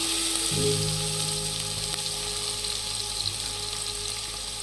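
Onion fries in a pan for mutton pulao, giving a steady, close sizzle that runs throughout with a brief stir or clatter near the start and no talk.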